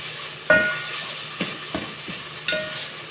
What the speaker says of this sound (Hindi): मेरे हस्बैंड यहाँ पे इसको फ्राई कर रहे हैं साथ साथ